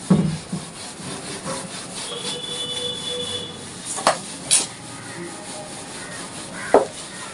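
A board eraser rubbing out writing on a classroom board, producing scratchy, uneven scrubbing strokes up close with a few sharper knocks and taps.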